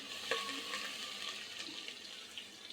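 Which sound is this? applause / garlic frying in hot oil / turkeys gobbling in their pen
garlic frying in hot oil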